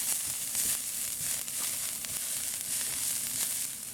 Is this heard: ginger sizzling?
yes